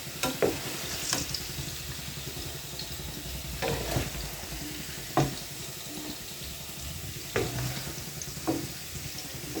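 Pork for menudo frying in a pan in a home kitchen, a steady close sizzle with occasional stirring scrapes and clinks, heard alone without talk.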